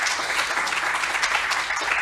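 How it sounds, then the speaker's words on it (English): Steady applause from an academic conference audience, a thick wash of many hands clapping without pause for a couple of seconds. "let's give a hand of applause to Patrick and Maxwell and Mike"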